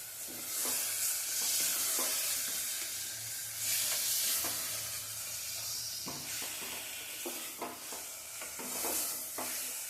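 Chicken sautéing in oil on a stove over a low flame, a soft continuous sizzle broken by repeated scraping strokes of a spatula, close and with no voices.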